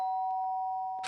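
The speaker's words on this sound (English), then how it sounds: "The sharp sound of the doorbell pierced my sleepy haze and pulled me back to the real world." A sharp electronic doorbell chime in the video game Danganronpa: Trigger Happy Havoc rings out as one steady held tone with a brief brighter burst at the end, alone in an otherwise quiet scene.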